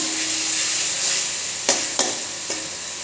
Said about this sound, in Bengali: ভালো করে কষিয়ে নেব যাতে টমেটোর কাঁচা গন্ধটা চলে যায়